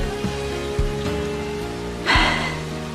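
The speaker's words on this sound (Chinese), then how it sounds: "这雨是越下越大了" Heavy rain pours down at night as a steady, even hiss, with faint music running beneath it.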